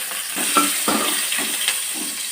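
Cumin seeds sizzle in hot oil in a pan for a Telugu-style fish curry, a close, steady crackling fry with a few sharper pops and spoon stirs.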